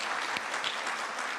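Audience applause at a Sacco annual delegates meeting in Kiambu County: a brief, fairly faint burst of many people clapping together, heard alone without speech.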